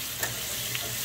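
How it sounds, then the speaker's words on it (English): Butter heating in a frying pan gives a steady, hissing sizzle close by, with a couple of faint clinks over the constant noise. "Okay, butter's getting hot."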